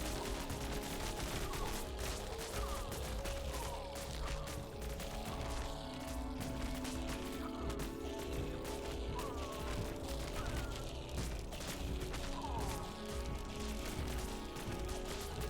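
Turrets firing in the Buggos 2 alien swarm auto-battle strategy game, a dense, continuous clatter of overlapping rapid shots and small crashes that fills the whole stretch at steady, fairly low level.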